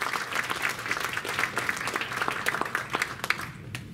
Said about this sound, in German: Auch nochmal einen riesen Applaus für die Freiwilligen.